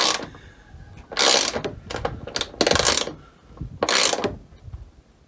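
Metallic clicking from an oversized washer as roof rail bolts are hand-tightened on a 2021 Sprinter van, several bright bursts of clicks with short pauses between them, close and fairly loud.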